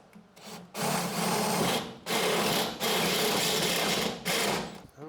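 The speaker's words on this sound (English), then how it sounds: "drill some more holes in a perfectly good bed floor" Power drill boring holes through a truck bed floor on a budget LS-swapped S10 build, running in four steady whirring bursts separated by short pauses, close and loud with no talk.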